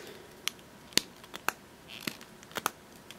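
A fountain pen being filled with ink makes small, sharp, close clicks and sucking pops, scattered unevenly over a few seconds against a quiet room, with no talk.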